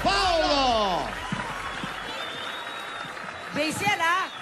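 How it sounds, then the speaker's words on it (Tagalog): A studio audience at a live Filipino noontime variety TV show applauds and cheers in a broad, steady wash, with an amplified host talking before and after. "Palakpakan namin kasamang sigawan!"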